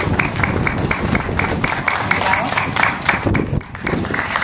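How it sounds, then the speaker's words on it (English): An audience at the 2012 Hawaii Book & Music Festival claps for student poets reading renshi. The applause is dense and continuous, with a brief dip near the end. "Let's give them one more round of applause."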